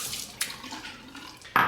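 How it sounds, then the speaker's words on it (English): Hot tap water runs into a ceramic shaving bowl, a soft close splashing trickle with a couple of louder gushes or clinks, brief and quiet. "we'll warm it up under the hot water from the tap"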